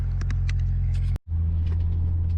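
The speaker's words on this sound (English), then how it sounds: "first impressions of the exhaust is, it is much quieter, but it's deep" A BMW 335 with a custom Flowtech Raptors aftermarket exhaust rumbles with a deep, low tone, a brief dropout midway, then the steady throaty drone resumes as it drives along.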